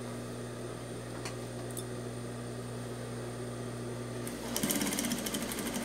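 A sewing machine stitching stretchy, highly elastic fabric for slippers: a faint steady mechanical hum runs throughout, breaking into quick rhythmic stitching chatter near the end.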